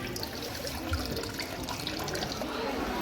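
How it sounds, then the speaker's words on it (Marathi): Water runs steadily from a cow-shaped spout at the Shri Ballareshwar Ganpati temple, a constant close splashing flow that continues without a break. "पाणी येते बघा गाईच्या तोंडातलं."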